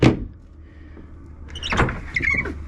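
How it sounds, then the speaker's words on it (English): A sliding companionway hatch door on a sailing boat closes with a short, close scraping slide and a knock at the end, heard over low hull and engine-room hum. "Door slide"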